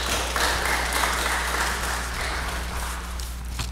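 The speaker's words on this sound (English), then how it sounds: "Can you give the Lord a hand clap of praise" A church congregation claps in praise during a Sunday morning worship service, a soft, even spread of clapping over a low steady hum that fades gently after a few seconds.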